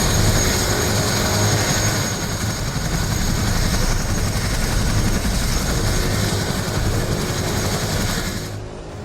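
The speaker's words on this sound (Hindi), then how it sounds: "MI-17 हेलीकॉप्टर के जरिए लोगों को निकालने का काम शुरू किया गया।" An MI-17 helicopter flies over a flood-hit village in the mountains during a rescue operation, with a loud, steady engine and rotor roar held throughout that drops away sharply at the very end.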